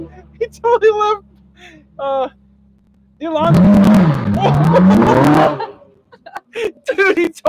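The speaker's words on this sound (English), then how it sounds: "Dude, he totally spun the tires." A car spins its tires as it drives off in California, giving a loud, wavering squeal and engine roar that lasts about two seconds, with people talking and laughing before and after.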